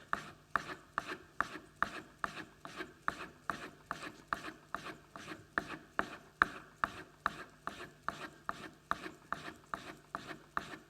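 A spokeshave blade's bevel is polished by hand in steady back-and-forth rasping strokes, about two per second, close and fairly soft, continuing evenly throughout.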